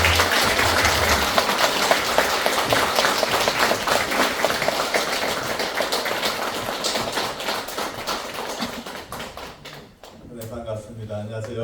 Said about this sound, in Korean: 우리 박효진 장로님 오실 때 큰 박수로 환영해 주시기 바랍니다